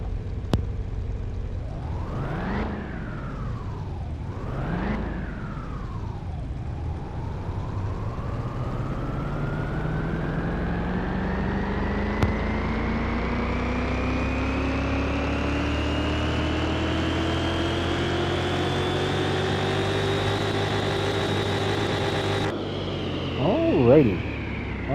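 A V8 overhead-valve engine in a Bolt Reptilia R6 in Car Mechanic Simulator 2021. Two quick revs come first, then one long steady climb in pitch to a high, held roar that cuts off sharply near the end.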